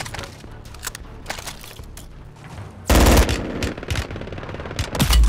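Rapid machine gun fire in a video game shooter, starting as scattered bursts and then a loud, dense volley of automatic shots near the end, with no talking.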